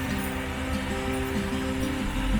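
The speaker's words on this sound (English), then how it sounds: "Pause for a quick rainstorm." Steady hiss of a passing rainstorm pattering on surfaces outside a shipping container workshop, a continuous wash of rain with no talking.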